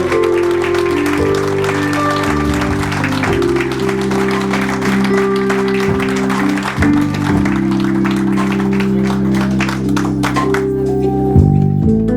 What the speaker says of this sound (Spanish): Denle un aplauso al Señor por ellos